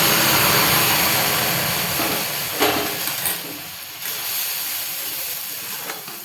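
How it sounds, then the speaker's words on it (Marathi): Boiling water poured into hot roasting semolina gives a loud, close burst of hissing steam and sizzle, roaring at first and then slowly fading over several seconds, with no talking. "आता ह्याच्यामध्ये उकळलेलं पाणी घालू."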